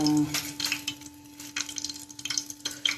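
Chillies sizzle in hot oil in a home kitchen while a utensil stirs and scrapes the pan in bursts, a faint steady hum running underneath.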